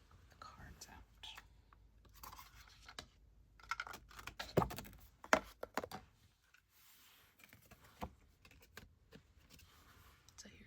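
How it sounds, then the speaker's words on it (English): Oracle cards pulled from a deck box in a quiet ASMR setting, close soft papery slides, taps and scratchy handling in bursts, with faint whispering between them. "let me go ahead and pull the cards out"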